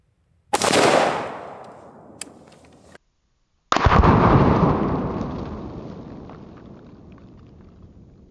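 Two loud AR-15 5.56 rifle shots are fired from a distance at a 100-pound concrete target, each a sharp boom trailing into a long rolling echo, with a faint click in between.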